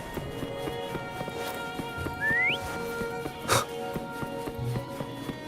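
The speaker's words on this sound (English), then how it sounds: "Why don't you call Foam over? Try whistling." A player character in the Wuthering Waves video game gives a single rising whistle to call a companion, short and clear over a soft game music bed, with a sharp chime-like accent just after.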